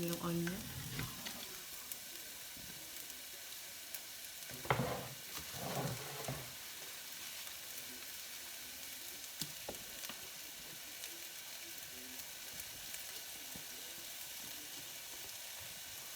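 Garlic and onion sizzle steadily in a hot pan for pork bistek, a soft continuous frying hiss with a few brief stirring clatters early on and no talking.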